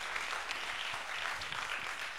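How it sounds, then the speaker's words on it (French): Audience applause at a Guinean youth debate competition quarter-final, a soft, steady wash of many hands clapping heard from a distance, continuous and fairly faint throughout. "Ça s'applaudit, s'il vous plaît."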